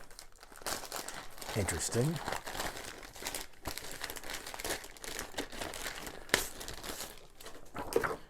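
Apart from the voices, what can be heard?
plastic bag crinkling while a rulebook is unwrapped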